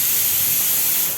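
Pressure cooker boiling chicken, a loud, close, steady rush of escaping steam held for about a second before starting to fade.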